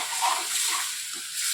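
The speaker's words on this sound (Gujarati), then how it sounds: "પાણી નાખીએ" Water is poured into a methi bhaji and potato curry in the pan, a short, close, splashing hiss that blends with a light sizzle.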